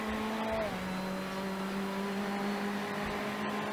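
Race cars lapping Sebring in iRacing, a steady engine drone with shifting pitched tones as cars run close together, loud and continuous, with commentary talk over it.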